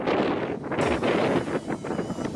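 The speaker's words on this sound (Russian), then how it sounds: "Ветер вообще все портит. Так сильно дует, что иногда лопату сносит." Heavy wind buffets the microphone in loud, continuous rumbling gusts that rise and fall in an open ploughed field, with no voices.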